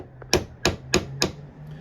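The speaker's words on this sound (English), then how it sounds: "I'm going to use the side of my hammer." The side of a hammer taps a file set on a nail while installing a Caboose Industries ground throw switch stand, four sharp metallic knocks in an even rhythm, close and clear, with a light tap before them.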